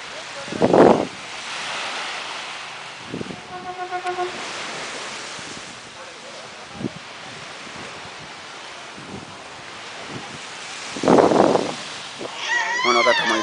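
Soft wash of ocean waves and wind along a calm beach in Bali, steady and low, with a few louder gusty bursts and occasional voices over it.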